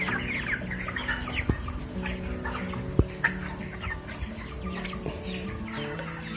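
Free-range broiler chickens, 27 days old, cluck in a continuous overlapping flock chorus close by, broken by a few sharper squawks and knocks. No one speaks.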